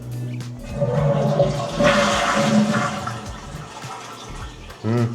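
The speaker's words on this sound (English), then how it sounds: "How to flush a toilet. How to waste some water." A sensor-operated toilet in a London airport hotel bathroom flushes loudly and close, a rushing surge of water that drains and gurgles for several seconds before a final refill swirl.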